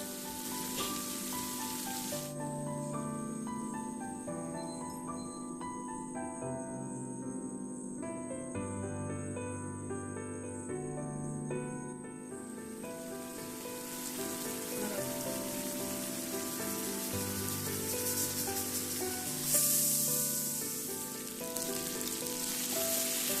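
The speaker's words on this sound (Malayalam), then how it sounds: "ഞാൻ എല്ലാ ചിക്കനും ആ ബട്ടറിലോട്ടൊന്ന് ഇട്ട് കൊടുക്കുന്നുണ്ട്. എന്നിട്ട് നന്നായി ഒന്ന് ഫ്രൈ ചെയ്തെടുക്കണം." Chicken pieces frying in butter inside a pressure cooker give a steady, moderately loud sizzle and crackle that runs throughout, with a faint background hum and no voices.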